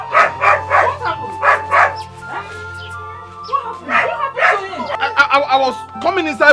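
A dog yelps and whimpers in pain after hot water is poured on its leg, with repeated sharp cries and whines mixed with people talking nearby.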